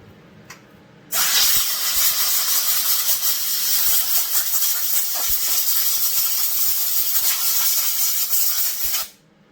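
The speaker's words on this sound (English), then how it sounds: "I'm going to rinse this out right quick. Wash the whole carburetor out." Water or spray rinsing out a Husqvarna 359 chainsaw carburetor, a loud steady hissing rush that starts abruptly after a brief quiet moment, holds for about eight seconds, then cuts off.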